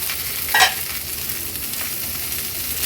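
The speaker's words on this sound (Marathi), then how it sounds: "झाकण ठेवून हे टोमॅटो आपल्याला 1-2 मिनिटासाठी लो टू मीडियम फ्लेमवर एक बाजू शिजवून घ्यायची आहे।" Tomatoes frying on low to medium flame in a covered pan, giving a soft, even sizzle throughout with one brief clink near the start.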